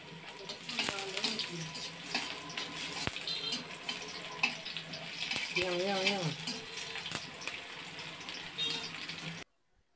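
Chopped onion and garlic hitting hot oil in a pan with bay leaves while cooking vegetable khichuri, a steady sizzle and watery hiss with clinks, under a voice talking, then cut off at the end.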